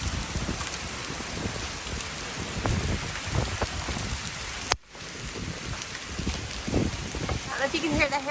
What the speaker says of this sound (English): I don't know if you can hear the hail falling on the top of the roof